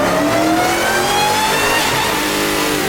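A Dodge Hellcat accelerates hard during a ride-along, its engine roaring loud and close from inside as the pitch climbs steadily through the gear.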